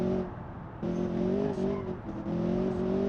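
A grand touring car built in Automation laps a test track in BeamNG.drive, engine droning steadily and climbing through gear changes, with brief dips between pulls and a faint tire squeal.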